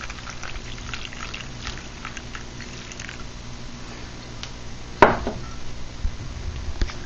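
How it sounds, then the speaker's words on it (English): Murky hydrated alumina solution is poured through a filter with a soft, steady trickle and faint wet splashes, then one sharp close clink partway through. "So we start the process of actually filtering the solution."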